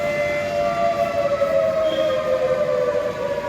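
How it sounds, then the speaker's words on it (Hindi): A civil defense siren, or hooter, wailing during a mock air-raid drill in Bikaner: a steady, sustained tone drifting slightly in pitch, heard from some distance over broad outdoor rumble, with no voices. "ये देखिए हूटर बज रहा है।"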